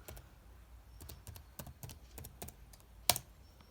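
Keys tap on a computer keyboard as a command is typed into a Windows command prompt, a quick irregular run of soft clicks ending in one sharper keystroke, close and faint.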